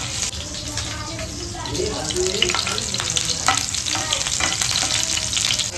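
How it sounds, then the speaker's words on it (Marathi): Garlic and green chilies frying in hot oil as a tempering for a vegetable dish, a dense continuous crackling sizzle with stirring, loud and close, with some voice in the background. "लसणाची फोडणी इम्पॉर्टंट आहे"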